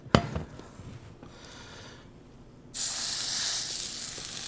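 A burger patty searing in hot grape seed oil in a pan, starting with a loud sharp hiss at contact, then a steady bright sizzle that grows louder and holds.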